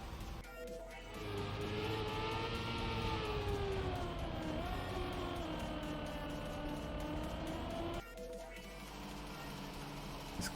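Snow car driving in the racing game Trackmania, a steady harmonic engine whine rising and falling in pitch as it revs, loud and continuous for most of the run, with a brief break near the end.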